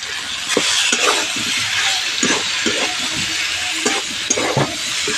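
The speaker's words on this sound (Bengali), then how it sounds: "মশলার সঙ্গে সমস্ত কিছু খুব ভালো করে একসঙ্গে আবারও কষিয়ে নেব" Squash, green peas and spices sautéed together in a pan, with a spoon stirring and scraping in irregular strokes and occasional light clinks over a steady close sizzle.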